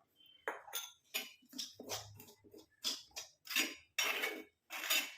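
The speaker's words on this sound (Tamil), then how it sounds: "இப்போ நம்ம எடுத்து வச்சுருக்க டிகாஷனை கொஞ்சம் கொஞ்சமாக ஊற்றி மிக்ஸ் பண்ணிக்கலாம்" Herbal hair dye paste being mixed with a decoction in a bowl, heard as a series of close, distinct clinks and wet scraping strokes of a spoon against the bowl at a steady rhythm, with quiet gaps between strokes.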